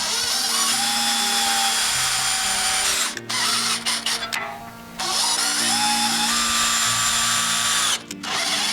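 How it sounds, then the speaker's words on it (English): A power drill bores pilot holes for post mounts with multi-angle brackets, whining loudly in sustained bursts with brief stops and restarts between holes. "we're going to go ahead and pre-drill those holes out."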